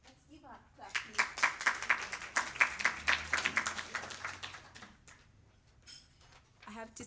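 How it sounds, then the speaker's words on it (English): An audience at a live panel discussion on media and women in politics breaks into a burst of clapping that builds, holds for about four seconds and then fades into scattered claps. "Let's give her a clap, please."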